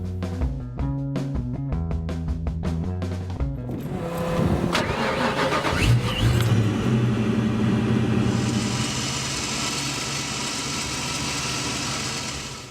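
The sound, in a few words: Ford Mustang Fox Body engine starting and running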